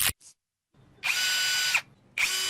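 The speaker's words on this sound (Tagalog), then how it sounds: "Nilagay sa barena." A power drill spins a homemade rust-removal attachment made from a rivet, glue and sandpaper, two short whirring bursts separated by a pause after a brief click, close and loud.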